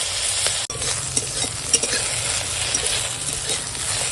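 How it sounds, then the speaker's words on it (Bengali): Okra pieces frying in a pan, a steady close sizzle with scattered stirring scrapes and light clinks, plus one brief dropout near the start; no one speaks. "তাহলে ভেন্ডি কটা ভেজেই ফেলি"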